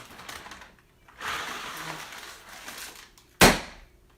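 A paper bag blown up and burst by hand to imitate a lightning clap: one sharp, loud pop near the end, preceded by rustling of the paper and breathy sounds.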